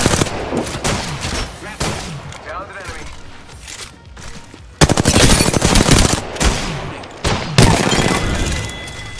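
Bursts of machine gun fire in a shooter video game squad fight, loud and close, with pauses between volleys and spoken team callouts mixed in.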